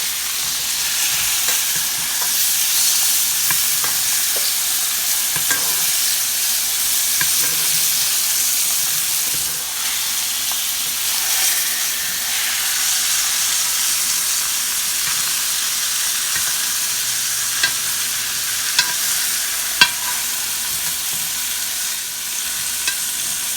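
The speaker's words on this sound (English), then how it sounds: "we're just going to bathe this steak in butter and finish cooking it" A steak fries in butter with onion in a pan, making a loud, constant sizzle and hiss with faint crackles and occasional utensil clicks, and no voice.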